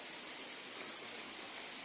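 Stream water rushes steadily around a trekker crossing it on foot during a trek in Karnataka, a dense, continuous close-up wash of flowing water with no voices.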